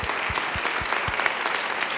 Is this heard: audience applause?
yes